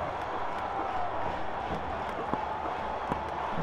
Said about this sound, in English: Listen to the crowd buzzing.